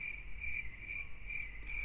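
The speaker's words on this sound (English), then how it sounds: "it's like, crickets chirping" Crickets chirping, used as a joke sound effect for an awkward silence: a steady high-pitched trill pulsing in regular bursts, clear and alone over a faint low rumble.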